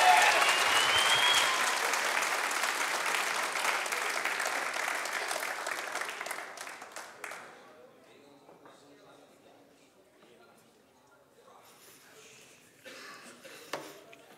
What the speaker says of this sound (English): Would you guys give me a big round of applause for Pastor Ross Thornton?